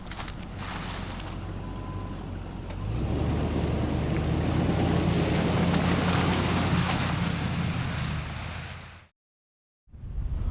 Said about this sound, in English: It's incredibly windy, as you can probably hear.